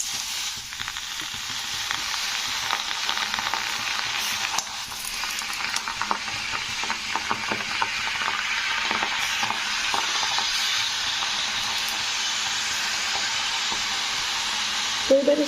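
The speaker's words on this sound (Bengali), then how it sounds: "তো এবারে এই শাকগুলো কড়াইয়ের মধ্যে দিয়ে দেব।" Helencha greens cooking in a wok over a stove, a loud steady frying sizzle and hiss running throughout, with scattered scraping stir sounds on top and no talk.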